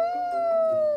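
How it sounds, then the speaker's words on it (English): A single sustained wolf howl, a clear tonal wail with rich harmonics that holds steady and slowly dips in pitch, close and loud for about a second. "the warning howl of a wolf"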